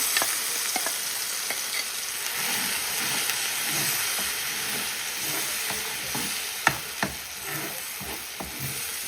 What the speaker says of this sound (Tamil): தாளி நீக்கி இந்த பேஸ்ட் எல்லாத்தையும் போட்டு நல்ல வடிவாக மிக்ஸ் பண்ணியாச்சு